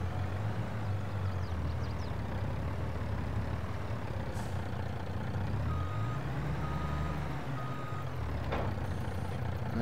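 A service truck in Farming Simulator 22 backs up, its reversing alarm beeping steadily over a loud continuous diesel engine drone, with a brief air-brake hiss near the end and nobody talking.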